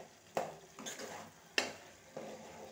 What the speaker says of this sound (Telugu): ఇలా వేసుకున్న తర్వాత ఇలా కలిపేసుకోవాలన్నమాట